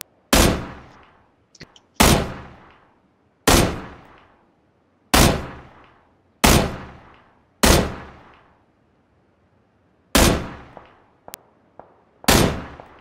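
Repeated gunfire in the video game Battlegrounds: about ten loud, evenly spaced single shots, each with a ringing decay, plus a few faint clicks between them and a pause before the last shots.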